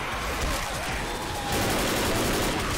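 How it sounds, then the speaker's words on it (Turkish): Dense, continuous gunfire from several weapons in Left 4 Dead fills the scene, staying loud and steady throughout and swelling slightly in the second half. "Biri bana sıkıyor şu an."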